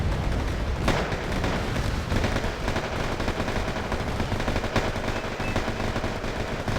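Dense, sustained automatic gunfire mixed with distant booms of artillery and explosions, filling a battle in the real-time strategy game Wargame: AirLand Battle, with M113 armored carriers and mortars in the fight; loud and continuous with no pauses.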